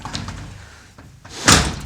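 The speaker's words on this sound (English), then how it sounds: "Shut this door." A wooden cabin door in rural Wakayama is pushed shut with a single sharp, loud slam near the end, after a quiet stretch of faint room noise and light handling.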